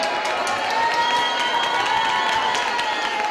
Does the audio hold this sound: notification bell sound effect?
no